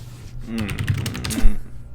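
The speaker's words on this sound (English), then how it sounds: "literally typing the song into Spotify right now" Quick bursts of computer keyboard typing, close and fairly loud, as someone types a song title into a music search; a voice murmurs partly over the clicks.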